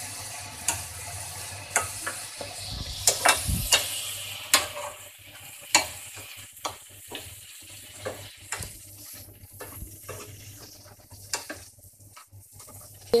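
Mixed vegetables for macaroni frying in a pan under a faint sizzle, punctuated by repeated sharp scraping and tapping knocks of a spatula stirring at an irregular rhythm, close and without talk.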